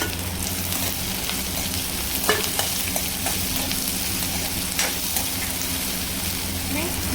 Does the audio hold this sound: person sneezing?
no